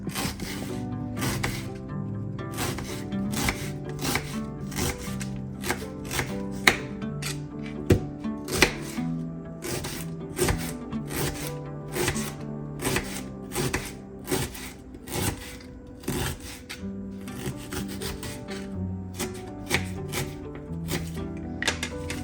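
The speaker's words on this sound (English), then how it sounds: "I will now chop the onions" Onions are chopped with a knife on a board in quick, irregular bursts of sharp taps, close up, with music playing underneath and no talking.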